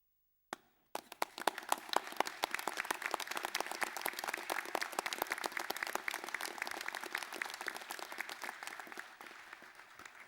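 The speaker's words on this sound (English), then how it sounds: "stand and applaud those on the stage, and then turn around and applaud your family and friends" Graduates at a Massey University graduation ceremony in Manawatu applaud, a sustained roomful of clapping that starts abruptly and continues steadily, fairly close and full.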